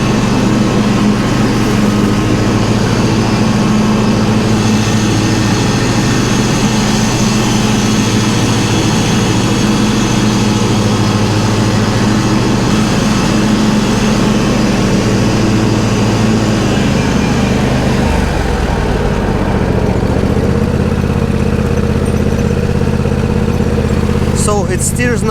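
A John Deere D140 lawn tractor engine runs loud and close in a steady drone, with a small change in pitch near the end.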